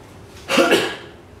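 A single short cough from an adult close by, one harsh burst lasting about half a second, with no other speech.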